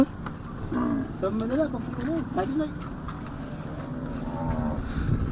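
Desi cows on a village farm moo in drawn-out, wavering calls, several in a row, with voices talking in the background.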